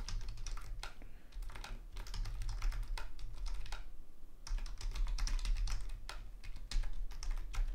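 Someone types on a computer keyboard, with quick bursts of close, crisp keystrokes separated by short pauses and no talk.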